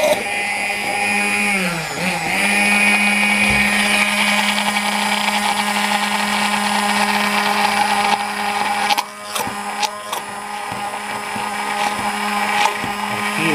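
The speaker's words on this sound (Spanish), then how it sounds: "Aquí estoy batiendo huevo y clara." A blender beating egg yolk and white with olive oil, salt and black pepper for homemade mayonnaise, a loud, steady motor whine that dips in pitch briefly, then runs on, broken near the end by a few clatters.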